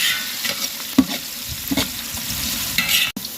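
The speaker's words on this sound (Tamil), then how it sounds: "வெங்காயம் நல்லா கோல்டன் ப்ரௌன் கலர் வர வரைக்கும் வதக்கி விட்டுட்டே இருக்கணும்" Onions sauté in a pan until golden brown for chicken dum biryani: a steady, close sizzle with repeated scraping stirs of a spoon cutting through at intervals.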